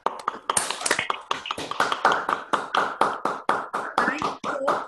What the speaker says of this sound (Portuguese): Não sabia que tinha aplausos mesmo